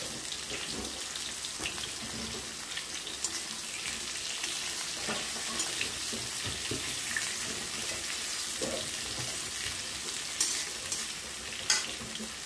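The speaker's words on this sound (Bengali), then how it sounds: "ঝিঙেটা হালকা একটু ভাজা ভাজা হলে" Ridge gourd fries in a pan with a soft, steady sizzle. Sharp scrapes and clinks of stirring come at irregular moments, along with some watery splashing, and there is no talk.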